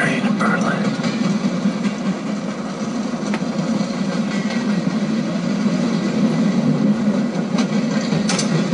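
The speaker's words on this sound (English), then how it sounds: "Anya, you and me on a train to Berlin." Train ride in the video game Wolfenstein: a steady, continuous rumble of rail wagons and engine, droning evenly throughout at moderate loudness with no clear talk.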